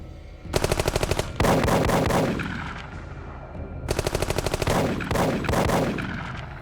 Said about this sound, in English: Gunfire. I think we're being attacked.